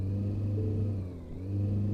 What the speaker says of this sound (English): Engine on.